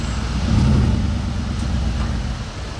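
A Mercedes-AMG ONE hypercar idles while it is maneuvered onto a trailer, giving a steady, fairly loud low engine drone with a slight swell early on and no voices over it.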